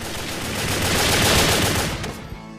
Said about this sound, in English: clearly loves the sound of her twin pistols